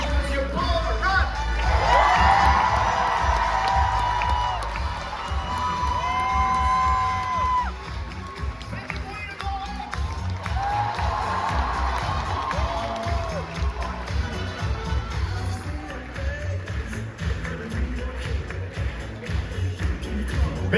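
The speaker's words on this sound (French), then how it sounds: "un tonnerre d'applaudissements, s'il vous plaît, pour Monsieur Paul Rudd" A large crowd cheers, whoops and shouts at the Paris premiere of Ghostbusters: Frozen Empire as the cast is presented on stage. The roar is loud and sustained throughout, with raised voices rising and falling.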